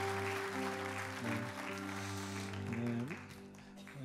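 Applause from a church congregation at a Korean ordination service, a broad steady wash of clapping over sustained organ or keyboard chords that shift midway, fairly distant and even throughout.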